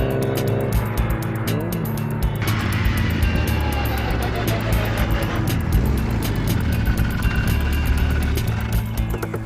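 A modified, seriously tuned Mini accelerating hard up a straight, with a loud, dense engine roar that holds steady throughout, close by and continuous.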